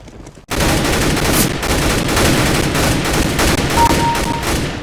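Dense, continuous automatic gunfire from the video game Counter-Strike: Global Offensive during a demolition match. It is loud and sustained after a brief quiet start, with overlapping shots and no talking.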